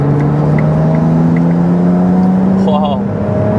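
A Ferrari 296 engine hums steadily under throttle on the Autobahn, a sustained droning tone climbing gradually in pitch from inside the cabin, with a brief chirping blip near the end.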